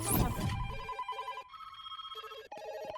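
A telephone rings in short repeated electronic bursts, fairly faint, after a brief loud rustle at the start.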